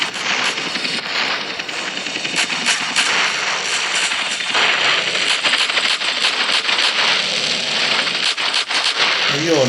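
Gunfire in GTA San Andreas during a desert interdiction mission, loud rapid shots and clattering bursts filling the scene almost continuously, mixed with game effects and someone talking over it.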